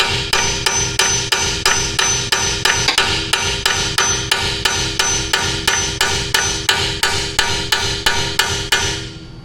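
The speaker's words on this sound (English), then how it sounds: "Try to hammer it down." Steady, evenly spaced hammer blows ring out on a Jeep Compass AWD during collision repair, about two strikes per second, loud and close with a metallic ring, alone without talk.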